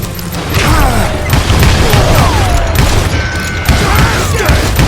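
Dense gunfire from a Wild West shooter game, Call of Juarez Gunslinger, set in a gold rush, with loud repeated booming shots and crashes running continuously, layered over game music and effects.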